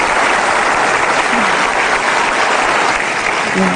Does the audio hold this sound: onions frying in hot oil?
no